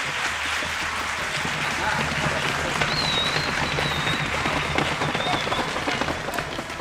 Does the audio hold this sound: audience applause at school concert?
yes